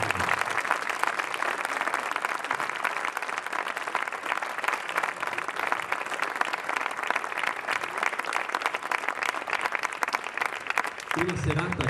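Sustained audience applause at a book presentation evening with a choir, steady dense clapping filling the whole stretch at close range, with a brief lull near the end.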